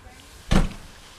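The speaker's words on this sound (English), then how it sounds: "close the door." Door closes with a single soft thud, close by in a quiet off-grid home in Alaska.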